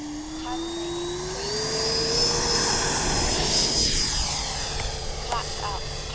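A 90mm Taft Valkyrie RC jet plane takes off, its turbine whine climbing steadily in pitch into a loud, sustained roar, while someone talks nearby.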